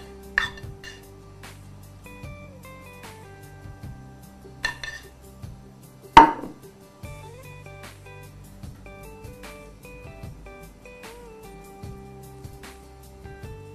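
Italian zucchini being stuffed with filling in a baking dish, with light clinks and taps of spoon and dish over soft background music, one sharper clatter midway, no talking.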